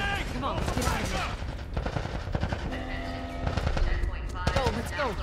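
Enemy soldiers fire in The Last of Us, with bursts of automatic gunfire and scattered shots over several seconds. Voices shout over the shooting.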